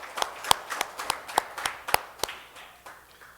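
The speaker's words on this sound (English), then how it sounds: "So can we give them a good round of applause?" Sparse hand claps at a legislative meeting, a dozen or so sharp claps from a few people, fading quickly to a light patter.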